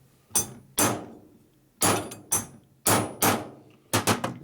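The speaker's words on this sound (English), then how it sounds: "Give it a couple whacks just to make sure you're in the right area." Hammer whacks tapping a part into a 1992 Harley-Davidson Evo 80ci engine case during a rebuild: about six or seven sharp, close metallic strikes, single and paired, with a quick triple at the end, no talking.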